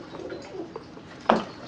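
Soft, low cooing of doves, a few gentle calls followed by one louder, closer coo, with faint background ambience.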